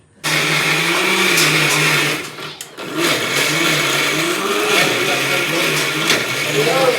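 A kitchen mixer grinder whirs loudly and steadily while grinding masala for a biryani at a home party, briefly stopping and then restarting with a continuous motor drone.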